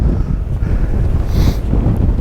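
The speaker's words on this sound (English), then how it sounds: "It's well too windy to do anything like drone flying or anything like that." Strong wind on a pier at James's Island buffets the microphone with a loud, continuous low roar that swells and dips slightly, with no other sounds standing out.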